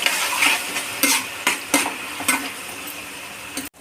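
Tomato and onion paste frying with green chillies in a pan, a steady close sizzle broken by repeated sharp scrapes and clinks of a spoon stirring against the pan.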